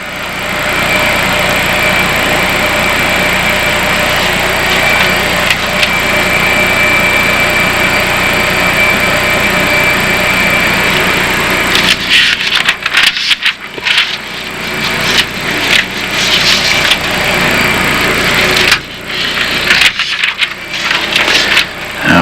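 A jet engine starting up in a Boeing 737-800 full flight simulator, a loud continuous whine and roar that later breaks into choppy, rattling bursts, with no voices.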